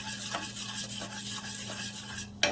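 A spoon scrapes and stirs curry around a hot pot, a soft sizzle running under the steady rubbing strokes, ending in a sharp knock of utensil on metal.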